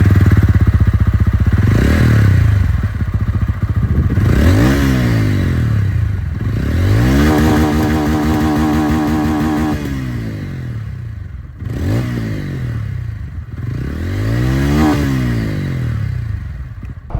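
A 2024 TVS Ronin 225cc motorcycle engine revs repeatedly up and down up close, with rising and falling pitch sweeps and a steady loud idle between throttle blips, alone without talk.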